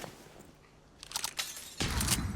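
Explosion and gunfire in the video game Arena Breakout, a quiet stretch broken by a rapid cluster of bursts, then a loud, sustained blast that fills the end of the moment.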